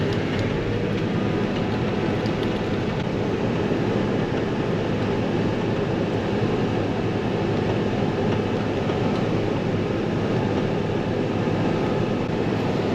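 A combine harvester engine in an Iowa oat field roars as it is throttled up, a loud, dense, continuous mechanical drone that holds steady throughout with no speech.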